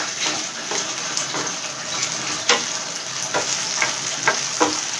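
Dried red chillies frying in a pan, a steady crackling sizzle with several sharp pops and scrapes of stirring, close and fairly loud, no voices.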